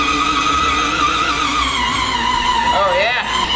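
A Bentley car driving while towing someone behind it, with a steady loud engine and road roar and a brief tire squeal near the end, under excited voices.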